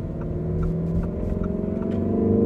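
A Lamborghini Urus SUV engine in sport mode runs steadily with a deep, throaty rumble that grows slightly louder, close by and continuous, with no talking.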